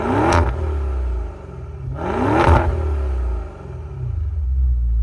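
A 2024 Maserati Ghibli 334 Ultima V8 engine revving loudly, two strong throttle blips rising and falling over a deep steady idle rumble, close up with no talk.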